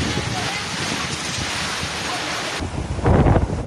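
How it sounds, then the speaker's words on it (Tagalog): Strong typhoon wind roars across the microphone with surf churning underneath, swelling louder near the end as a heavy ocean wave crashes close by, during landfall in Casiguran, Aurora, Philippines. "Malalaki ang mga alon."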